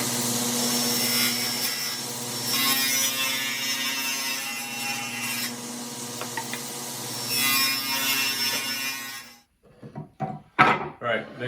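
A saw cuts through a wood board for a walnut jewelry box, a steady grinding rasp running in long continuous strokes for about nine seconds, then stopping; faint speech and handling noises follow.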